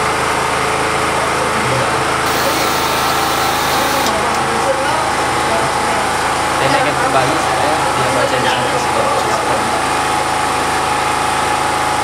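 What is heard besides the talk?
generator engine running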